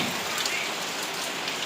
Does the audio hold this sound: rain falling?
yes